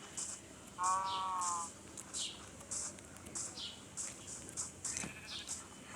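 A goat bleating at a Qurbani animal market, one clear drawn-out bleat early on and fainter calls after, over a quiet background of chirping birds or insects.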